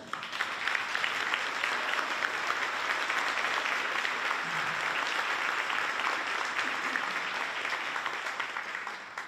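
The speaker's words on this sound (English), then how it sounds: "let's give these awesome kids one more round of applause." Sustained applause from a concert audience for a high school student band after a spring concert, steady dense clapping throughout at moderate distance with no talking.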